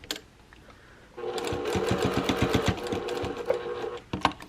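A sewing machine stitches the sides of a large three-zipper pocket pouch in a fast, rhythmic burst of needle strikes lasting a few seconds, close up, with quieter handling sounds before and after.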